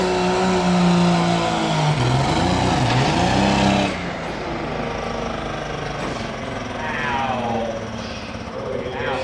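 Diesel engine of a pulling truck roaring loud and close at a county fair truck and tractor pull, pitch sweeping and wavering under throttle, then dropping to a lower steady rumble partway through.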